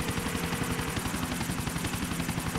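Helicopter from the video game GTA 4: The Ballad of Gay Tony, a steady rapid rotor chop throbbing continuously at moderate level with no talk.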